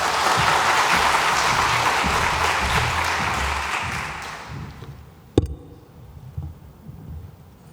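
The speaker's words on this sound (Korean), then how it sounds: "박수로 우리 환영을 해 주시면 감사하겠습니다" A church congregation applauds in welcome at a Friday worship service, dense clapping that fades out after about five seconds, followed by a sharp knock and faint shuffling.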